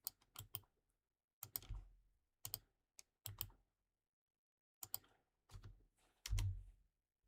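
Quiet bursts of typing on a computer keyboard, short clusters of crisp key clicks separated by silent pauses, close and isolated.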